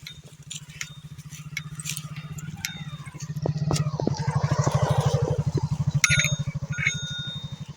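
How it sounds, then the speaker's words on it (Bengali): A motorbike on a rural sandy road comes closer with a rising, pulsing engine putter that grows louder over several seconds. Light rattles and a bell-like ding sound nearby, and a voice speaks briefly. "সাইড দাও বাবা, বাইক আসতেছে।"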